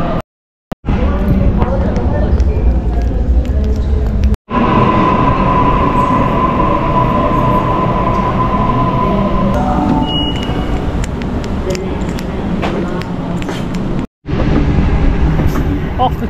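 A train pulls into a Sydney station, loud and close, with steady rumbling wheels and brief squealing tones, while people talk over the noise.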